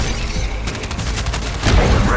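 Battlefield barrage in Suicide Squad: Kill the Justice League: loud, dense crackling bursts of explosive fire repeat rapidly, swelling heavier and deeper near the end.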